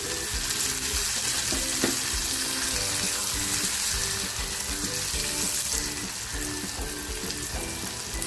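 Cluster beans frying in a pan, a steady close sizzle and crackle holding throughout with faint rhythmic stirring scrapes underneath.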